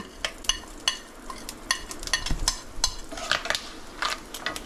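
Dried chili, two bay leaves, black cumin and a pinch of hing dropped into three tablespoons of hot oil, crackling with sharp repeated pops and a steady sizzle, near and clear without speech.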